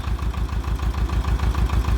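An Ursus tractor engine runs steadily at a low, rhythmic idle, loud and close, with nothing else audible.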